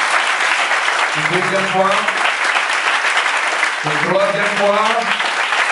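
A church congregation at a consecration ceremony applauds and acclaims in a steady, loud wash of clapping and cheering, while a voice speaks over it.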